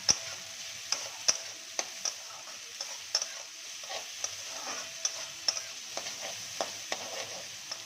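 Capsicum and corn kernels sizzle steadily in hot oil while being stir-fried for a vegetarian flattened rice pulao, with a continuous close frying hiss broken by regular sharp ticks of the spatula scraping the pan.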